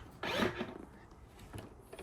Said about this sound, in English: I'm just going to open the rear window here.